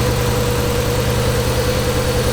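Nissan Skyline R32 RB20 engine idling with coil plug 3 disconnected and the cylinder misfiring, a close, loud, steady rumble with an uneven pulsing throb and no voices.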